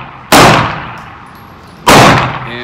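A Glock 48 pistol fed from a Shield Arms S-15 magazine fires two loud, sharp gunshots about a second and a half apart, each with a ringing tail that fades outdoors.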